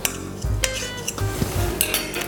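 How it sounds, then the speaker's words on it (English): A fork mixes breadcrumbs with butter in a bowl for a pumpkin gratin topping, making a few close knocks, clinks and soft scrapes against the dish in short bursts. "with a fork, you want to mix it up together"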